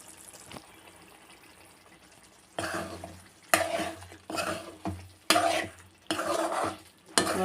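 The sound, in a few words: stirring egg masala curry in a pan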